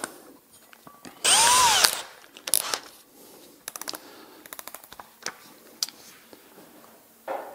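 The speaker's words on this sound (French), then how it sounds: "La scie cloche, ça a des dents qui sont quand même assez agressives." A power drill whines briefly at high speed as a toothed hole saw cuts into zinc, followed by scattered metallic clicks and taps, close up.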